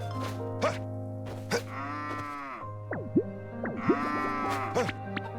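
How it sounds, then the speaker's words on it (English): Cows lowing in a series of drawn-out moos in the Story of Seasons farming game, Grand Bazaar in winter, heard over steady background game music with short calls scattered throughout. "I just want to milk my cows real quick."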